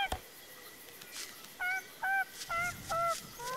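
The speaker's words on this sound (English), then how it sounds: "He's just gonna cheep at us until morning." Repeated two-note cheeping calls from a bird creature in the survival video game Don't Starve Shipwrecked, five short bright chirps in a steady rhythm, clear and close over a faint background.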